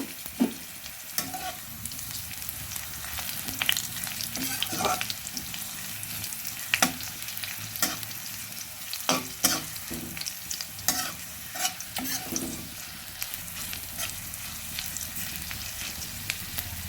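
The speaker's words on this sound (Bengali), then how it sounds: "রসুন আর শুকনো রসুন আর কাঁচা লঙ্কাটা ভাজা হয়ে গেছে" Garlic and green chili fry in a pan with a steady sizzle, punctuated by repeated scraping clicks of a spoon stirring.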